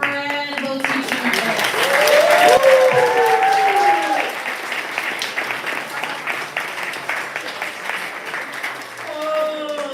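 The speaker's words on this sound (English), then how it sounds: "One more round of applause for our incredible teaching." Sustained audience applause fills a poetry gathering, loud and dense with whoops and shouts over it, swelling early then tapering to a steady lighter clatter before picking up again near the end.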